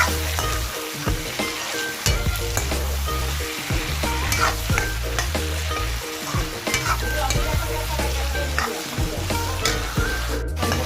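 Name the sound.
frying meat with turmeric powder, stirring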